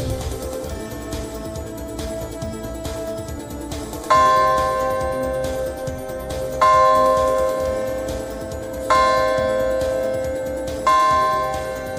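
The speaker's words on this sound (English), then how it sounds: "the bell of hope rang out at St. Paul's Chapel in New York" The Bell of Hope at St. Paul's Chapel in New York rings four slow, resonant strikes, each with a long decaying tail, after a stretch of softer ticking and knocking.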